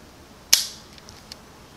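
A Browning BL-22 Micro lever-action rifle fires a single Armscor .22 short round outdoors, one sharp crack with a brief tail, followed by a couple of faint distant ticks as the shot carries to a target 50 yards away.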